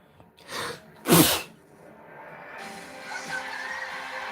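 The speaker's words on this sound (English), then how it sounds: "why was I sneezing?" A person sneezes twice, the first softer and the second a sharp loud burst, then background noise from a TV quiz show settles in behind.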